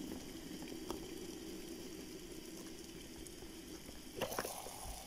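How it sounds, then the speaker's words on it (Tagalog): An electric kettle brings water to a steady rolling boil, a continuous faint bubbling hiss with a short louder burst of activity near the end, and no talking. "tingnan nyo kumukulo na"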